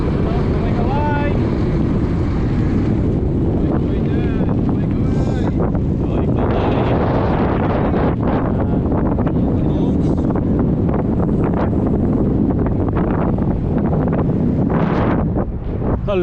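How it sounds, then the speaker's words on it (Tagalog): Strong headwind buffets the microphone of a cyclist riding a loop near Azizia, Khobar, a loud, continuous low roar of wind noise with brief voices faint beneath it. "Ang lakas ng hangin. Salubong pala."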